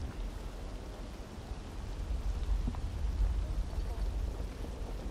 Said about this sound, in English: Is it starting to rain?